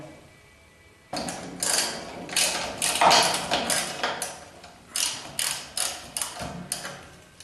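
A ratchet fitted with a six-point socket loosens a brake distribution block bolt, giving a run of close, crisp clicking bursts in quick rhythmic strokes after a brief quiet start.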